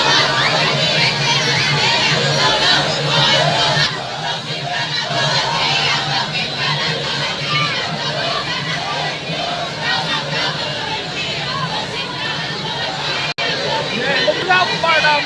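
A large crowd of people packs a busy party street, their voices merging into a continuous loud roar of chanting, shouting and babble, with children's cries and nearby talk mixed in.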